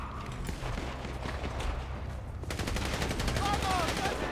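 Rapid bursts of gunfire in the video game GTA V, a dense crackling fusillade that grows louder and busier midway, heard at moderate level with a voice faintly present.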